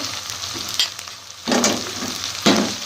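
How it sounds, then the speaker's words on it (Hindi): Onion, ginger garlic paste, green chillies and tomato fry in a pan for beef keema, a continuous sizzle that surges in bursts as the mixture is stirred, close and fairly loud. "अब हम इसको अच्छे से फ्राई कर लेते हैं"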